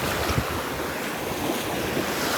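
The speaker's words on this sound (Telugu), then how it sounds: "ఈ బీచ్ నేమ్ వచ్చేసి మట్టు బీచ్ అనమాట" Waves wash steadily onto Mattu beach in Udupi, a continuous broad surf roar mixed with wind buffeting the microphone.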